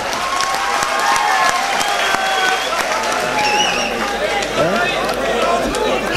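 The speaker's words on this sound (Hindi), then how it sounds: "आप जोरदार तालियां भी बजा सकते हो ऐसे" Audience clapping at a comedy mushaira in Bhiwandi, a dense steady patter of applause mixed with crowd noise and a few scattered voices throughout.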